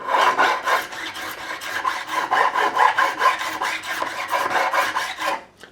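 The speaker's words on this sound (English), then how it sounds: "I'm going to take my profiling file or a crowning file, and that has a groove in there which is already matched to the fret" Steady back-and-forth rasping of a crowning file drawn across the fret tops of an Epiphone Sheraton II Pro guitar to clear burrs, a dense run of close, even strokes with no talking.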